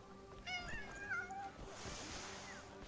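A cat meows several times in quick succession, rising and wavering cries up close, then a softer rustling wash of noise follows with no one talking.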